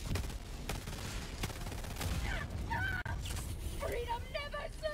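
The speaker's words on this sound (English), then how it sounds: "this person won't stop shooting" Gunfire in the Helldivers 2 video game: sharp shots crack out in a loose, repeated volley early on, then continue under a speaking voice and game effects.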